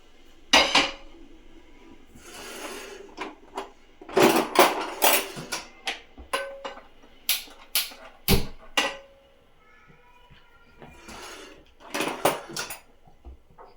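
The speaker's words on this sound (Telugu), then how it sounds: "ఇప్పుడు ఒక దోశ అయితే వేద్దాం దీంతో." Dosa batter being spread and cooked on a hot pan in a home kitchen, with repeated sharp clinks and scrapes of utensils against the pan and dishes, irregular bursts close by, no talking.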